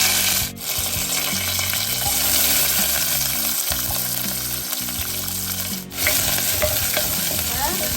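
Mustard seeds, fennel, fenugreek and curry leaves sizzle loudly in hot oil, with a continuous close crackle and spatter, briefly dipping twice as ingredients are stirred in.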